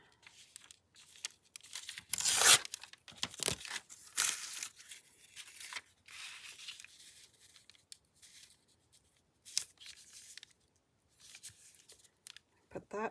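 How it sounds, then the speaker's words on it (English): Paper or fabric being torn by hand for a handmade fabric-covered journal, irregular close ripping and crinkling bursts with pauses between, mostly without talk. "I better rip it straight."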